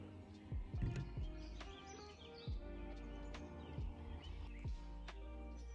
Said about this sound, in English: Just birds.